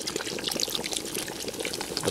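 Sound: pouring dark beer into a pot

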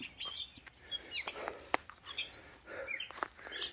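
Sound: birds chirping outdoors

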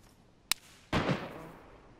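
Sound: gunshots in the video game DayZ

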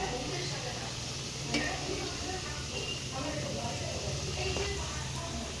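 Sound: frying in oil

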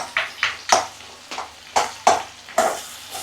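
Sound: stirring and breaking up olives for pickle

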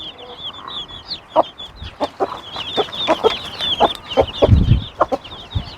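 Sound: chicks cheeping

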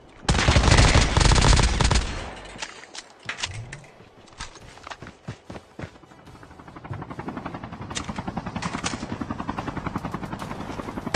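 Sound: helicopter flying amid gunfire in a battle royale video game

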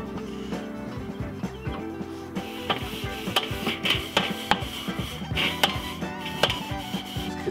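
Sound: cleaning grates on a Weber kettle grill

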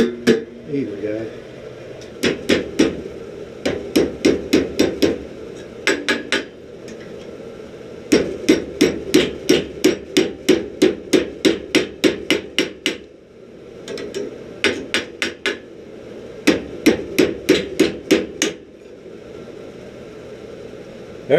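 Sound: hammer striking hot steel on anvil, forging chain link

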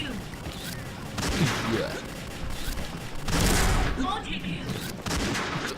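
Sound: gunfire in a video game

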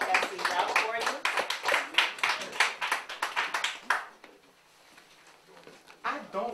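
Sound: audience applause welcoming a speaker

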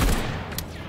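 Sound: shotgun firing in the video game Atomic Heart

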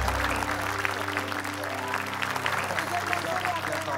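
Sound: studio audience applause

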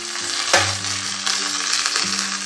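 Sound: curry leaves sizzling in hot oil for tempering

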